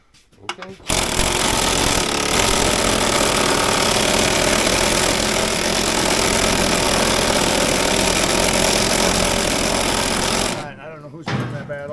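Air ratchet loosening chain case bolts on a vintage Polaris XLT 600 triple snowmobile, a loud continuous rattling buzz running for about ten seconds before stopping, with a brief spoken word afterward.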